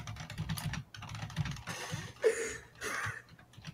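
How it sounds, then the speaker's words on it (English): Quick, faint clicking of keys typed on a computer keyboard, picked up in the background of a podcast recording, irregular bursts of keystrokes with no talking. "Erik, we can hear your keyboard."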